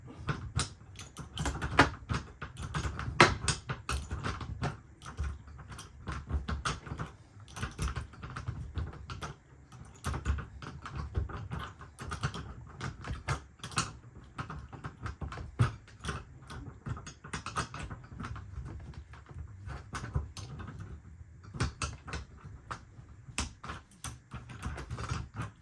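A crescent wrench works a bolt on a Happijac bunk bracket, giving irregular quiet metallic clicks and taps in clusters over half a minute, close by and faint.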